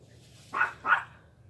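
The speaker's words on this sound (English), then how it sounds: "my little dog has made enemies with, well, pretty much every waterfowl out here" A small dog that barks at waterfowl by a lake gives two quick, sharp barks in a row, close by over a faint low hum.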